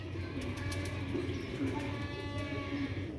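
Black-faced Sialkoti pigeons kept for sale give a low, steady murmur of cooing that runs unbroken through the whole stretch, close by against a soft background hum.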